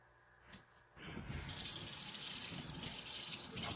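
Tap water gushes steadily into a sink while raw beef is rinsed for canning, starting after a brief knock and running loud and continuous with no talk.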